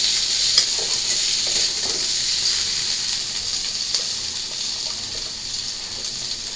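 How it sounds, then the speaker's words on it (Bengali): Potato pieces and drumstick vegetables fry in a pan in a steady, close hiss of sizzling oil, with occasional scraping stirs and no talking. "তো আমি এগুলো একটু ভাইজা নিই"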